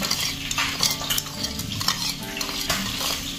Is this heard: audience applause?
no